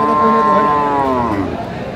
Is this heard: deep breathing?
no